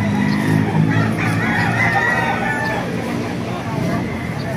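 A Boston Sweater gamecock, eight months old, crows at a busy poultry market, its call ringing over a steady hubbub of crowd babble and other fowl.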